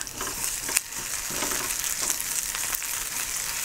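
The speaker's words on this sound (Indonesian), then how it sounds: "Minyak gorengnya sedikit aja, kita kasih taburan garam sedikit, tumis sebentar." Cucumber sautéing in a little oil with salt sizzles steadily and close by, with crackling and occasional stirring scrapes, and no voices.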